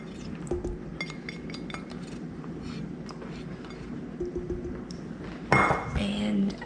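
Yogurt scraped from a container into a bowl, with repeated light clinks and scrapes of a utensil against glass and dishware, close and moderately loud, ending in a louder clatter, with some talk in the background.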